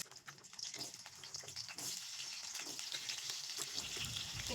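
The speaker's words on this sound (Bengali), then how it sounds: "গরম হয়ে গিয়েছে, আলু দিয়ে দিচ্ছি।" Potatoes go into hot oil in a wok, and a loud crackling sizzle swells up and holds steady, close by, with a few clinks at the start and no talking.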